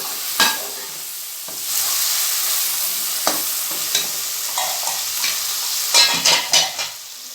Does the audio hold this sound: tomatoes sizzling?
yes